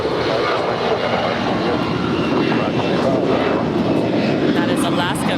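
An 11-year-old Alaska Airlines Airbus A320 on the ground at LAX gives off a loud, steady jet engine roar, with a voice speaking over it.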